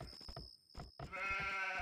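Sheep bleating in Age of Empires on the Arabia map, short faint bleats repeated close together over a quiet game background with a brief gap in the middle.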